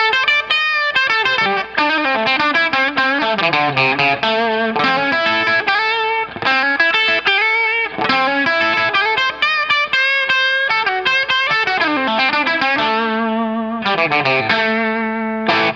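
An electric guitar is picked near the bridge on the bridge pickup, giving a bright, biting tone. It plays a fast, continuous melodic run with effects and slight distortion, loud and close, with no talking.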